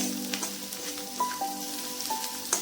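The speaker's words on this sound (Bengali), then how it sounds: "পেঁয়াজটা একটু লাল করে ভেজে নেব" Onions sizzling and frying in hot oil in a pan for a catla fish and potato curry, a steady close crackle with small pops and faint clinks of stirring.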